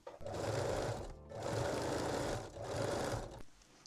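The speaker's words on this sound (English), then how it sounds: "You can use zigzag or 3-step zigzag stitch." A sewing machine runs zigzag stitches over fold-over elastic on a lace bralette, three close bursts of fast steady whirring separated by brief pauses.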